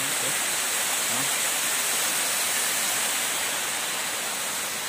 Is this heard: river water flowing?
yes